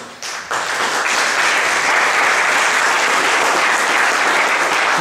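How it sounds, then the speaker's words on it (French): Loud crowd applause at a football match launch event in Haiti, rising abruptly after a quiet start into sustained, dense clapping and cheering that fills the rest of the clip. "je vous demande d'applaudir chaudement Monsieur Jean-Baptiste Pétuel."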